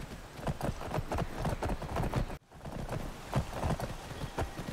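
Horse hooves trot in Skyrim, a quick, even clip-clop rhythm close by that runs steadily, breaks off for a moment, then resumes.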